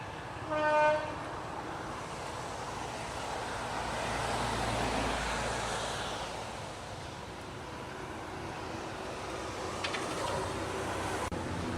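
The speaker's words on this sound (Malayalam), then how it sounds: "ഒരു ട്രെയിൻ പോകുന്നു." A train passes on a journey through Bihar and Bengal, opening with a short horn toot before a rolling rumble swells and fades. A second faint horn sounds near the end, heard from some distance.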